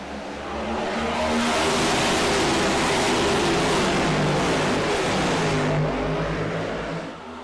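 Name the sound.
race cars accelerating at green-flag restart, Daytona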